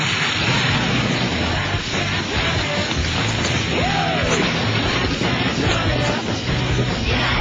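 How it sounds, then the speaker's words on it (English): A thermite reaction burns through the bonnet of a French car, a loud, roaring, continuous hiss and rumble with crackling bursts, sustained and unbroken from start to finish. "The irreversible thermite reaction begins."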